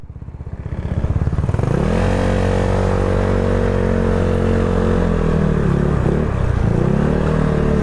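A motorcycle engine starts at a motor shop in Bulan, Sorsogon, and settles into a steady, loud idle up close, its pitch dipping and rising briefly with small throttle changes.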